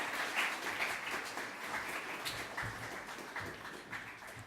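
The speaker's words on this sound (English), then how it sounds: "So another round of applause." An audience at the Express Media Awards 2014 ceremony applauds in a steady, fairly faint wash of many hands clapping, with no talking.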